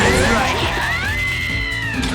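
A cat meowing in the video game Digimon World: Next Order, a drawn-out rising and falling meow heard close and clear over game sounds.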